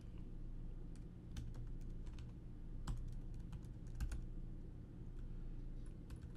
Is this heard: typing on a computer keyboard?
yes